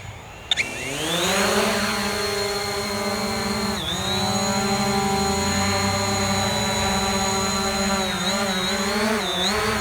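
A Hubsan Zino drone spins up its motors and lifts off, a loud, steady high-pitched whine with strong harmonics that rises at startup, holds while it hovers and flies close by, and wavers briefly as it maneuvers.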